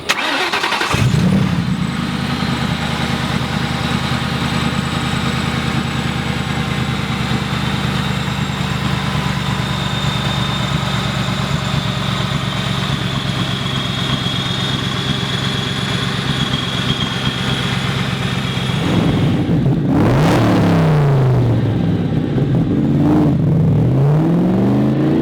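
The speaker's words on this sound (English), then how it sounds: "Here we go for riding this Cobra. Love hearing the supercharger." A supercharged 1965 Shelby Cobra replica engine cranks and catches, then settles into a loud, steady close-up idle with a high whine riding above it, before a burst of revving near the end.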